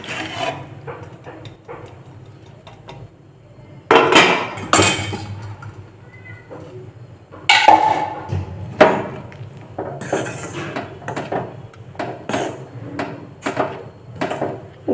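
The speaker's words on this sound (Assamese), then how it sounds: "দি পেলাই আকৌ লৰাই আছোঁ এতিয়া।" A spoon stirs melted pieces of a Vim dishwashing bar with lemon pieces in a metal pot, giving intermittent scraping and clinking knocks that turn louder and sharper in irregular bursts.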